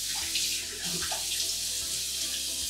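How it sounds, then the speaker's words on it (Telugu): Tap water pours steadily into a sink while a person splashes it onto their face in a home bathroom. The flow runs close and unbroken with a constant rush, and no one speaks. "నేను జస్ట్ కొంచెం వాటర్ ఫ్లాష్ చేస్తాను ఫేస్ మీద"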